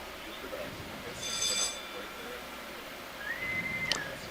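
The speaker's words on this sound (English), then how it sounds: "following the test of the ship's whistle and general alarm" A faint two-tone electronic sound, then a rising steady tone, from a test of the ship's whistle and general alarm aboard the research vessel Okeanos Explorer, over a low background hum without speech.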